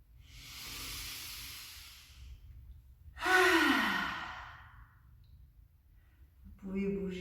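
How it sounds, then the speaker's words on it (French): A person takes a slow, deep breath during a relaxation session: a soft airy inhale, then a louder sighing exhale, with a brief voiced sound at the end, all close and quiet. "je vous propose de prendre une profonde respiration"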